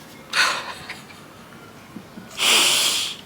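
Sniffling and snorting after crying: two loud nasal bursts, a short one near the start and a longer, stronger one near the end, separated by quiet breathy pauses, close to the listener.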